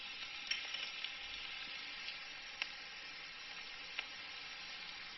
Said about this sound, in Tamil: வெங்காயமும் பச்சை மிளகாயும் போட்டு போகிறோம். இது நல்லா வதங்கட்டும்.